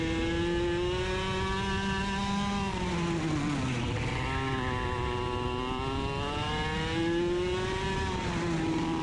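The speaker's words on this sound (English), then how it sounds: "You see me blip the throttle there, or you can hear it rather" Racing kart engine at North Texas Karters, loud and close throughout, with the harmonic pitch falling as the throttle is backed off, then climbing again in a sharp blip before settling into a steady high whine.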